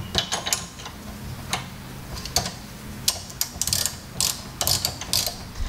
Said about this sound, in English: to tighten everything on, what I'm using is a 12 mil socket and a 13 mil wrench